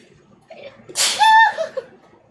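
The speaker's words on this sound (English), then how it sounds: "Was that a sneeze?" One sharp human sneeze bursts out close and loud, preceded by a brief intake of breath and followed by a short exhale in an otherwise quiet room.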